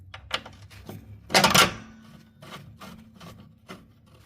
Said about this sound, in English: So I'm gonna clean this bolt and then we can install it.